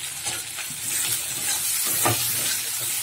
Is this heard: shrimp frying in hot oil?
yes